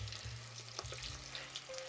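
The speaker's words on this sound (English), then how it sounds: "I'm really frying." Chicken pieces, five small ones, fry in hot oil, giving a steady close sizzle with faint crackles and small pops over a low continuous hum.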